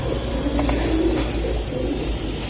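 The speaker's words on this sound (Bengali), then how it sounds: "এই দুইটা বাচ্চা সহকারে কবুতর।" Pigeons kept with two chicks coo in low, rolling calls against a steady room background, close by and continuous, with no talk over them.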